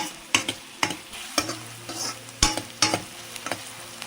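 Chopped onion and ginger frying lightly in a pan for white sauce pasta, with a soft sizzle beneath repeated sharp spatula scrapes and taps against the pan, close and clear, no voices.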